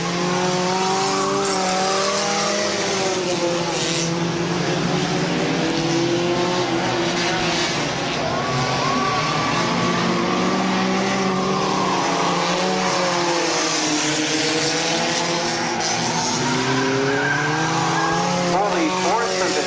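Compact race cars roar around Midvale Speedway in a continuous loud pack, engines droning and rising and falling as they jostle for position, with tires squealing and an announcer talking over the racing.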